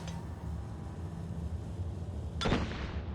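A bomb detonates in Assassin's Creed: Revelations, a single sharp explosive burst rising out of steady game background noise near the end, with no voices.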